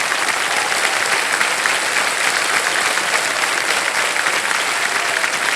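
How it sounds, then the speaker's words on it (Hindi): A studio audience on the quiz show Kaun Banega Crorepati gives loud, sustained applause, an even wash of many hands clapping that continues without a break and with no talk over it. "तालियां बज जाएं इनके लिए।"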